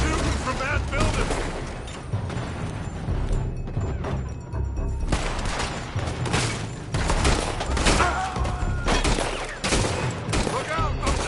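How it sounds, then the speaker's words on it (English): Gunfire in Red Dead Redemption 2, dense loud volleys of rifle and pistol shots in rapid bursts with heavy booms, nearly continuous, with voices shouting over it. "They're shooting from that building!"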